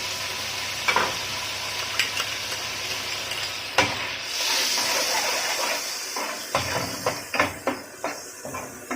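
Garlic sizzles and fries in a hot pan, a steady close hiss broken by the scrape and clack of a utensil stirring, with no one talking.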